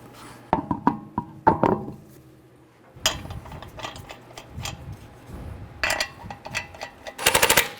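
Wheel lug nuts being snugged down on a Chevrolet Malibu, with sharp, irregular bursts of rapid clicking and rattling from a tool, separated by brief quiet gaps and growing denser toward the end.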